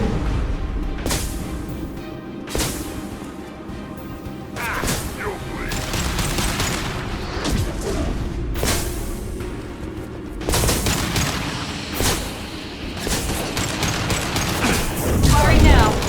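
Rapid bursts of gunfire and heavy booms from the Mass Effect 2 video game fill a busy combat mix, with repeated firing and impacts throughout and voices calling out amid the shooting.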